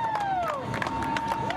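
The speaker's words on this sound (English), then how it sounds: "An eruption of applause and cheers are what OSU President Gordon Gee heard as he made his way off his bus" Crowd of supporters in a parking lot cheering and clapping as a university president steps off a bus, a dense, steady roar with whistles and shouts, fairly close.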